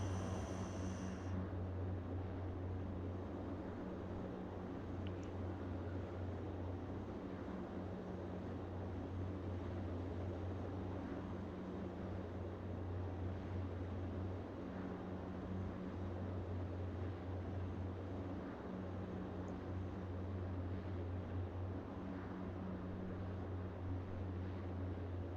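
NAC Fokker F27 turboprop airliner taxiing, a steady low engine drone with a constant hum that holds evenly throughout, without speech.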